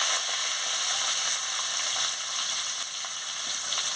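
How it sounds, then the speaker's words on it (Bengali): Chopped onion hits hot oil in a pan along with five-spice seeds and dried red chilli, giving a steady, bright sizzle with faint crackles and stirring, moderately close. "তেল গরম হয়ে গেছে, 5 ফোড়ন আর শুকনো লঙ্কাটা দিয়ে দিচ্ছি। এবারে পেঁয়াজ কুচিও দিয়ে দিচ্ছি,"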